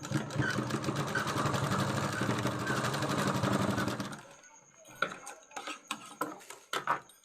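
A sewing machine runs in a steady, loud burst for about four seconds while stitching fabric for a school escort. Short handling clatters and knocks follow.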